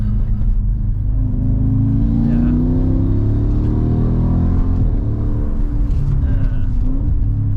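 A 500+ bhp all-wheel-drive car accelerating, its engine a loud, steady low rumble that climbs in pitch as it pulls, heard continuously from close by inside the cabin.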